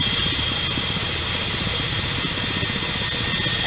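Constant rotor and turbine drone of a Ka-50 Black Shark attack helicopter in a flight simulator game, loud and unbroken throughout with a steady high whine over a low throbbing rumble.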